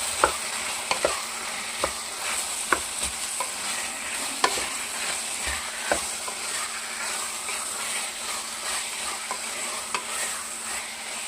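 Carrot, beans, tomato, onion and cabbage stirred and fried together in a pan: a continuous sizzle broken by regular clacks of the spatula against the pan, close and fairly loud.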